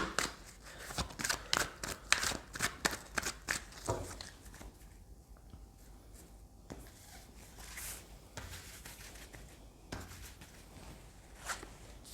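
A deck of tarot cards shuffled and then drawn, with a rapid run of close, crisp flicking snaps at the start giving way to softer sliding and the occasional single card being placed, all fairly quiet and without speech.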